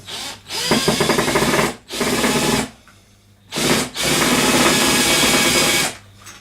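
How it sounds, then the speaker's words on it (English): A powered screwdriver drives screws into a wooden painting frame, whirring loudly and up close in four sustained bursts separated by short pauses. "My screwdriver, drive the screws in."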